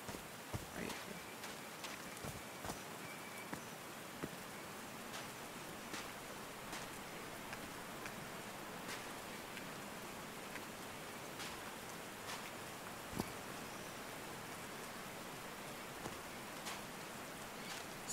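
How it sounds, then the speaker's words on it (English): Steady rainfall in the video game Call of the Sea hisses softly throughout, with scattered sharper drips and taps of drops hitting surfaces. "These drops of rain are so refreshing."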